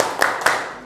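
A class of students claps a short PPK clap pattern: two sharp, close hand claps spaced about a quarter second apart, ringing briefly in a room.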